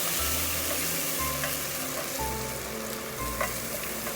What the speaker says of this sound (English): then add the first glass of white wine to blend the flavor